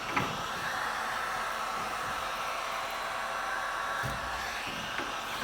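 A scraper drags steadily across a quarter midget racing tire, giving a continuous hissing rasp with a couple of sharper catches, close and fairly loud throughout.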